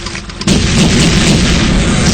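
Bombs bursting in a dubbed Chinese war film aimed at French ships, with a sudden heavy blast that gives way to a loud, continuous rumbling roar.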